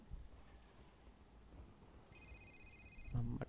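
A telephone rings once in Call of Duty Modern Warfare 3, a short electronic tone over faint game ambience that ends in a low thump.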